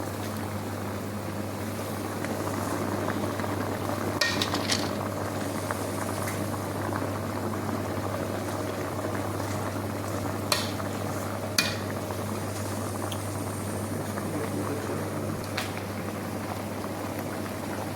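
Long grain basmati rice boils in a pot of water with a steady, dense bubbling roar that runs unbroken, joined by a few brief metallic clinks near the middle and toward the end.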